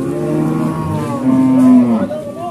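Cattle moo at the Purwakarta animal market in Indonesia, a loud, close, drawn-out lowing call with rising and falling pitch over a murmur of market background noise.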